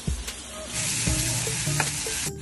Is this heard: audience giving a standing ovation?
no